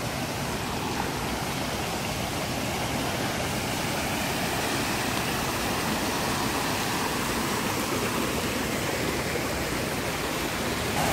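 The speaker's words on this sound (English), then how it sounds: "Oh, but there's a waterfall, so it all makes everything better." A waterfall at a lake pours in a steady, loud broadband rush that fills the whole clip without a break, with no voices over it.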